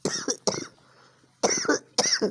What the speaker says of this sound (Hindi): और एक साइड और खांसी स्टार्ट हो गई है मुझे।